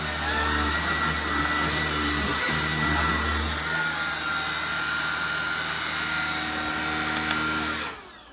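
A bagless cordless vacuum cleaner runs in boost mode on carpet, a loud, steady close whine with a low hum that continues for several seconds before it cuts off at the end.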